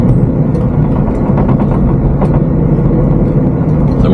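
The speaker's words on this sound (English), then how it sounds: "I've got the exhaust brake all the way on, it's in manual, second gear," A truck engine drones loud and close with the exhaust brake fully on in manual second gear, holding back a towed wagon; a steady, heavy low rumble with no talk.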